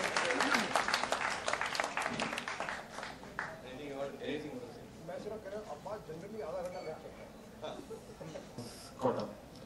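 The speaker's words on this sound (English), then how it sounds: "Please give him a big round of applause." Audience applause at a music launch event with a live concert, a burst of crowd clapping at the start that thins out into scattered claps under someone talking.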